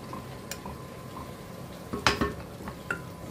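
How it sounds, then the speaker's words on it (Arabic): Garlic fries in ghee in a pan with a soft, steady sizzle, broken by a few clinks of a utensil against the pan near the end. "حطيت معلقة سمنة بلدي، وهنزل عليها بقى بكمية حلوة من الثوم"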